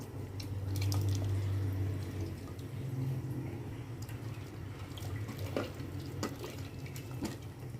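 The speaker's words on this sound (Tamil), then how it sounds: "இப்போ நம்ம புளி ஊற்றிக்குவோம், தேங்காய் பழம் ஊற்றிக்குவோம்." Tamarind water and coconut milk are poured into a boiling dry fish curry, producing a soft liquid splash and gurgle early on, then quiet bubbling and light drips.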